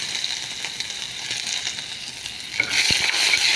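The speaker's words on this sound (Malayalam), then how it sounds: "കടുക് പൊട്ടി കഴിഞ്ഞപ്പോൾ ആദ്യമേ ഇഞ്ചി ഇടുന്നു" Ginger hits hot oil with popped mustard seeds for a bitter gourd pickle, crackling and sizzling steadily at close range, then growing louder and brighter as the pieces spread through the pan.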